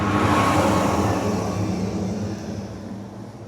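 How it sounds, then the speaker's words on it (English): A garbage truck rumbles past nearby, a loud, steady engine roar that slowly fades as it moves away. "Garbage truck."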